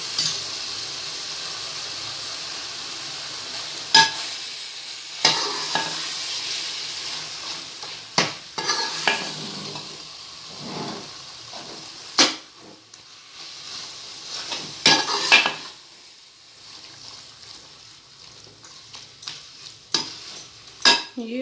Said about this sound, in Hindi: ये हमारा अच्छे से मिक्स हो गया है।